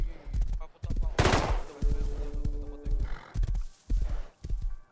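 A horse in the survival video game Rust clops along with hooves and neighs, mixed with bursts of gunfire, while players talk over the action.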